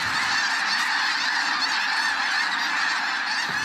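Large flock of arctic white geese honking loudly and continuously outdoors, a dense overlapping cacophony of calls with no pauses and no talking.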